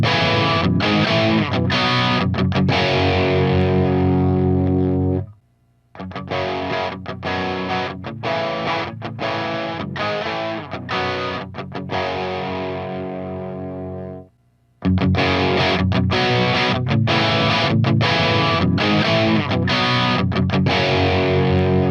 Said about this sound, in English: I'll play each one of these pedals through the clean channel and show you the different frequencies that they're pushing